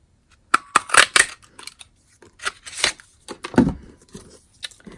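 Scissors cutting a paper piece for a handmade birthday card, a series of close, crisp snips and paper rustles in short bursts with pauses between.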